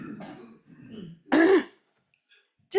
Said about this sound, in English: Or clear your throat.